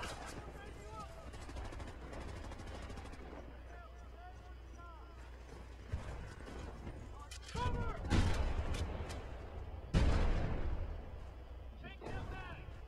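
Gunfire at a target in Medal of Honor arrives in a few heavy, booming bursts spaced several seconds apart, over a steady low rumble, with faint voices in the background.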